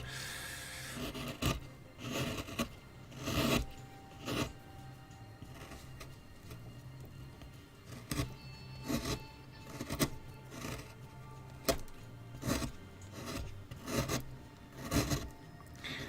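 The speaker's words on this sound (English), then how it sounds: "With chisels like this, you should always cut the wood." A chisel slices into wood while an owl figure is carved, making repeated rasping, scraping strokes in uneven bursts, close and fairly quiet, with no voices.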